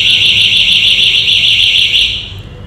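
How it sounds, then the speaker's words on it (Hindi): A Joy e-bike Wolf's anti-theft alarm, set off by remote, blares a loud, steady electronic siren tone close by, sounding alone and dropping away toward the end. "वहीं आप ये अलार्म दबाएंगे जैसे आपने कहीं भीड़ में इसे खड़ा कर दिया, और जैसे ही आप इसको प्रेस करते हैं"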